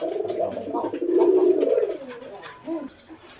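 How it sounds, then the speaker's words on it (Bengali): A male deshi pigeon coos close by in a loft, giving a run of soft throaty rolling calls that swell and then trail off into a short final coo. "এই যে সেই শিকারি কবুতরটা তো অনেক সুন্দরভাবে ডাকাডাকি করতেছে"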